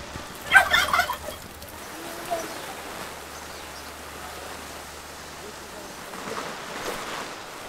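Turkeys gobble in a short burst near the start at a farm enclosure during a heavy rainstorm, with a softer gobble later and steady rain noise throughout.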